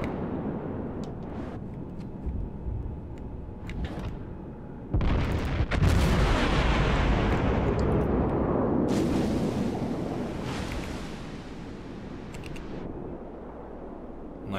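Heavy warship gun salvos in World of Warships boom out, one deep blast and a rumbling follow-up standing out over a constant low engine and sea drone, with smaller distant thuds scattered around.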